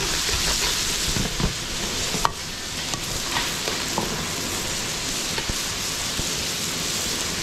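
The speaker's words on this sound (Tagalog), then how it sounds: "gigisa muna natin to mga belly hanggang mag-golden brown na yung bawang sa sibuyas natin" Pork belly sautéing with garlic and onion at a Pampanga catering cook, a steady dense sizzle like rain on a surface, with occasional clanks and scrapes of stirring, close and continuous.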